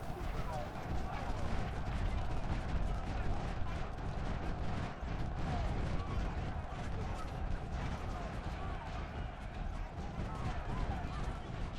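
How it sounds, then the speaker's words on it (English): Artillery fire pounds a unit during a 2nd Bull Run battle in Ultimate General: Civil War, with dense, repeated booms and crackling musketry forming a constant, busy battle din. "the 52 is getting hammered by artillery"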